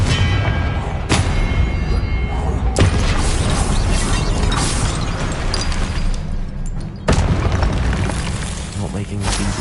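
Spell explosions in the Hogwarts Legacy game, with Confringo blasts booming out in a loud, dense battle mix and several sharp bursts landing near 1, 2.7 and 7.2 seconds over constant rumbling combat noise.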